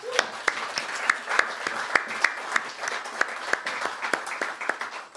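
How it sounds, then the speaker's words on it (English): Audience applause for Bill Henderson at a Pushcart Prize literary reading, a steady patter of clapping hands with a few sharper claps standing out, moderately close and continuous throughout. "I'd like to take a moment to give Bill Henderson a big round of applause"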